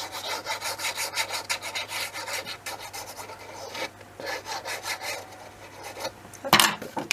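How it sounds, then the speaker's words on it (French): Glue is spread by hand across a paper scrapbook album page, making close, steady rubbing strokes in a quick repeating rhythm with no voices, ending in a brief louder scrape. "On vient y mettre de la colle."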